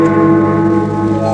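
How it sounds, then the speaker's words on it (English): A church bell strikes once for one o'clock, a single loud toll with a long ringing hum that hangs and slowly fades, heard alone without voices. "Then the bell struck 1."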